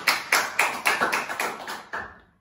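Rhythmic claps from what sounds like a small group or a sound effect, about eight evenly spaced sharp hits, each with a short reverberant tail, ending in a decaying ring.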